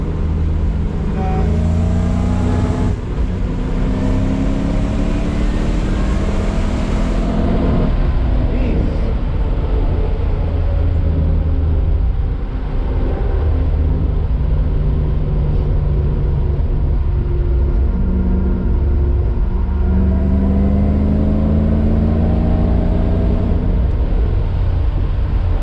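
A supercharged Toyota Supra's engine roars continuously from inside the car, with rising pitch sweeps as it accelerates hard after a downshift, a loud sustained drone throughout.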